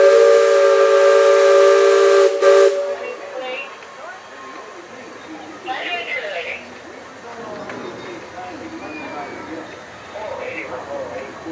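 A riverboat's loud, sustained steam whistle blares for a couple of seconds, then cuts off, leaving quieter voices talking over a low background rumble.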